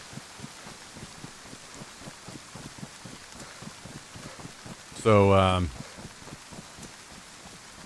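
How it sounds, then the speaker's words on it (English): Soft, steady rain in DayZ on the Chernarus map, a faint patter with regular small ticks throughout, briefly covered by someone speaking near the middle. "I'm not going to be able to hear it because of the rain, but whatever."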